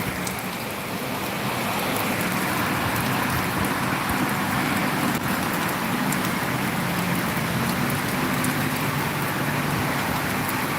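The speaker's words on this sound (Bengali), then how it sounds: "মানে দেশের পানির বৃষ্টি দেখছি আমরা, বাট এরকম বৃষ্টি এই দুবাইতে কখনো দেখিনি" Heavy rain pours down steadily in Dubai during an unusual downpour that has stopped traffic, a dense, unbroken roar of water on nearby surfaces with no speech.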